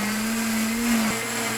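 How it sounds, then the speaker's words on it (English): A countertop blender whirs steadily at close range, spinning a green smoothie of leafy Power Greens mix, its motor pitch dipping briefly as the load shifts. "put the blender top on, and once again, we're going to go ahead and spin this up"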